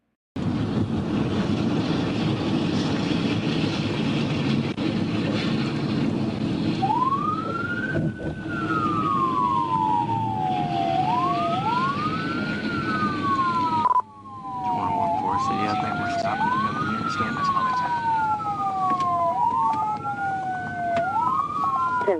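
Police car siren wailing in repeated rising-and-falling sweeps during a highway pursuit, loud and close over steady engine and road rumble, with a brief dropout midway before the siren resumes.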